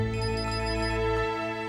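A telephone rings with a steady electronic tone during an outgoing call, sustained and fairly clear for under two seconds with no voices over it.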